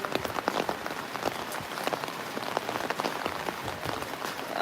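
Rain falls steadily, pattering on a hard surface with dense, irregular drops close by, with no voices.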